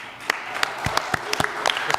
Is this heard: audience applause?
yes